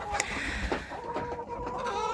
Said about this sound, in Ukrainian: Вітання вам з Чернівців від моїх курочок фаверолі